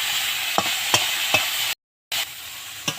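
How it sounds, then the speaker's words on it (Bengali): Drumstick flowers sizzle in a pan with salt, a steady loud frying hiss broken by several sharp stirring scrapes, with a brief gap of silence midway. "এবার আমি ভালো করে ভেজে নেব"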